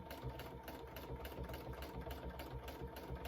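Continuous close hum and rapid needle chatter from a sewing machine thread-painting a fabric collage, an even unbroken drone with a steady mechanical pulse throughout.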